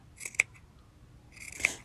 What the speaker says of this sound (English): You're going to cut it all the way to the end.